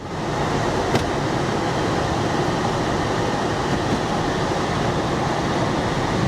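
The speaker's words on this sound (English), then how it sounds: "let's turn the AC on, see if it works" Air conditioning blowing inside a 2013 Porsche Boxster, a steady, loud broadband rush of airflow and fan noise that stays constant throughout, with a faint click near the start.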